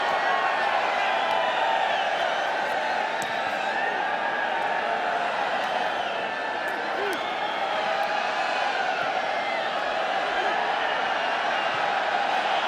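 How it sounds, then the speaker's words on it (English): A big stadium crowd in Berkeley, California applauds and murmurs throughout a Real Madrid vs. Inter football match, a continuous distant roar under a commentator's voice. "drawing applause and admiration from the big crowd here in Berkeley, California"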